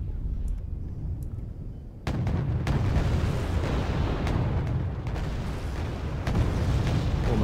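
Repeated booming bursts of artillery fire in the video game Wargame: Red Dragon rumble through a dense, noisy battle soundscape, with a louder stretch after a brief quieter opening.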